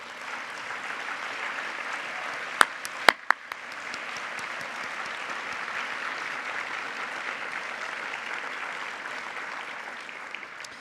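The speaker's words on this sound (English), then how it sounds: "Let's give them a round of applause." A large audience at a performing arts conference in New York gives a long, steady round of applause for competition participants, with a few sharp nearby claps or knocks early on and the clapping holding evenly throughout.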